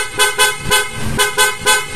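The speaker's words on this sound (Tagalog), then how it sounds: "Tapos ito po yung pinaka loud horn ni Sir," A loud PIAA Sniper 155 dual aftermarket car horn, giving a rapid series of short, sharp, close honks in an uneven rhythm.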